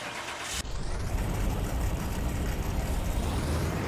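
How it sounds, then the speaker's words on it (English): A Ford GT40 engine in Car Mechanic Simulator 2021 fires up abruptly after a brief quiet moment and settles into a loud, steady, rumbling idle. "I love the sound of this engine"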